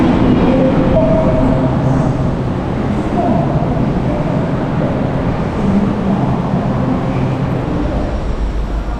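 Steady loud rumble of a train at Vientiane railway station in Laos, with continuous low mechanical noise and faint scattered voices in the background throughout.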